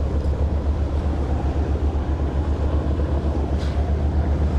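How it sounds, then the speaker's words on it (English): A noisy boat engine drones steadily and loudly at sea, a deep continuous rumble with wind buffeting the microphone throughout. "the boat's so noisy"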